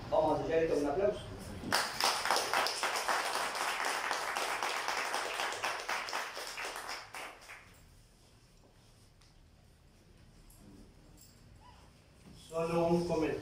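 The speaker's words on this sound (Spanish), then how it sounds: "Vamos a sellar esto con un aplauso." Applause at a signing ceremony for an agreement between a local council and a Spanish cultural society, dense clapping rising abruptly and filling several seconds before fading out, with voices talking before and after.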